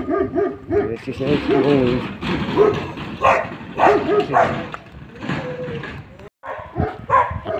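Local dogs bark and yip in a neighbourhood, mixed in with ongoing close talking that partly masks the repeated barks.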